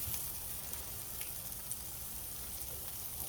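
Cheese frying in an extremely hot pan for a taco, a steady soft sizzle with faint crackles, close and continuous with no talking.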